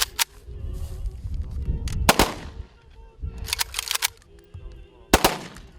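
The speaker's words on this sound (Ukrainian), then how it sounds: "Поховали героя із військовими почестями. В останню путь проводили салютом." A rifle salute volley fired at a military funeral for a soldier: several sharp, loud, close gunshots at irregular intervals, some overlapping in quick bursts, with crowd murmur and ambient noise between the shots.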